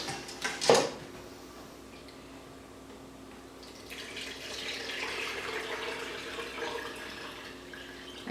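Turkey neck stock, the dark boiled juice from the neck and giblets, poured into a pan for gravy: a short splash at the start, then a soft, steady trickle of liquid in a quiet kitchen.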